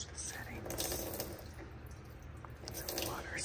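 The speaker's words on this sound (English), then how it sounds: "Some water sounds." Water runs from a pull-out faucet into a deep kitchen sink in a luxurious rental house, a steady close splashing hiss with faint dripping and no talking.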